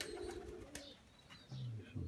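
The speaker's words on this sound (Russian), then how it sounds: "Ну, голуби спокойно летают." Pigeons give a few short, soft coos close by outdoors, with faint bird chirps and quiet background noise around them.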